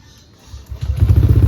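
A Honda or Yamaha smart-key motorcycle cranks briefly, then its engine catches and settles into a loud, close, throbbing idle.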